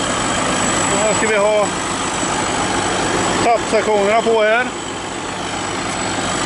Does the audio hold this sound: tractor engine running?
yes